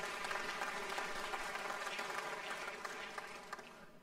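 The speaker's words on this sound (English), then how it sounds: "that's worthy of some applause" A chamber of the Louisiana Legislature applauds during a governor's address, with dense, continuous clapping that fills the room and eases slightly toward the end.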